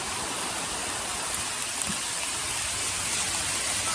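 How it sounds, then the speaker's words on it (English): Heavy rain pours down steadily beside a fishery pond, a dense, even hiss of falling water with no letup and no voices. "It's raining heavily."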